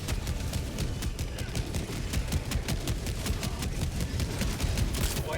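Heavy machine gun fire in the video game Helldivers: a dense, sustained stream of rapid, evenly spaced shots with continuous rumbling, loud and unbroken from start to finish.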